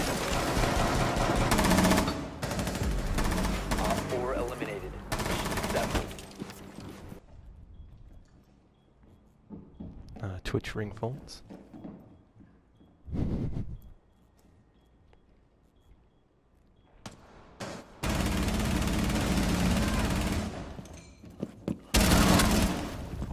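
Gunfire in Rainbow Six Siege: loud bursts of rapid shots come in several separate clusters with quieter gaps between them, mixed with game announcer voice lines and player talk.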